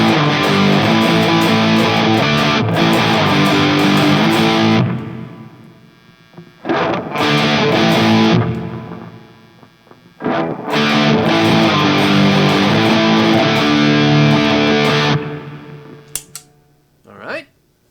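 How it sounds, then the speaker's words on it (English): Heavily distorted electric guitar chords through a DOD Gunslinger distortion pedal ring out in loud bursts with brief pauses between them, fuzzy and sustained. "I'm going to call the Gunslinger a pretty good sounding one-trick pony distortion pedal"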